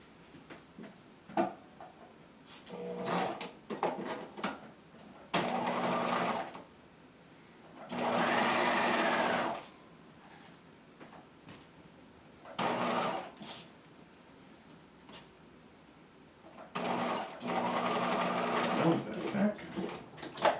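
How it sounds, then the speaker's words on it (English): A sewing machine stitches a jacket's upper collar to its facings in several short and longer bursts, moderately near, separated by pauses with handling noise between runs. "And now I can go ahead and I can stitch."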